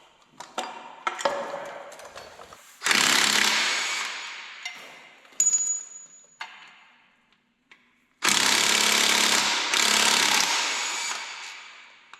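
An impact-style power tool zipping bolts off a Duramax diesel engine in a shop, with loud, close bursts of whirring rattle separated by clicks, clanks and short pauses.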